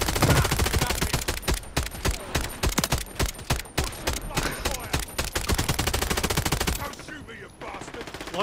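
Sustained rapid automatic fire from a gun fed by a 100-round drum in a video game, loud and dense with crisp rhythmic shots, trailing into a quieter tail near the end.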